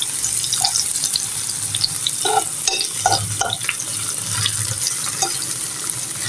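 Yardlong bean pakoras frying in oil, a loud constant sizzle with scattered clinks and scrapes as the fritters are turned over one by one.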